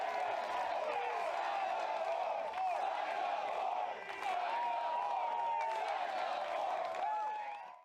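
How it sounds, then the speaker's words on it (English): A crowd of disc golf fans at the 8th hole cheers and claps in a sustained, loud roar that holds steady for several seconds before fading out at the end. "And why not keep them cheering out here on the 8th hole?"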